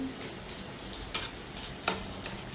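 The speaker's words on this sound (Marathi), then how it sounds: "वरण मस्त उकळतंय." Dal (lentils) simmering in a pot makes a faint, steady bubbling and churning with a couple of soft pops, quiet and unbroken.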